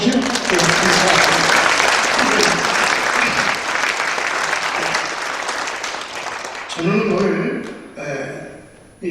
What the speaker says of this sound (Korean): 이 한 번 더 박수 하시죠?